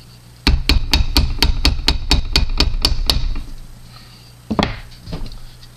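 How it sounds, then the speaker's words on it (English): Wooden mallet tapping a silver ring held in a vise, about a dozen quick, evenly spaced knocks, close and crisp, followed by a pause and one or two softer taps. "Again, wooden mallet."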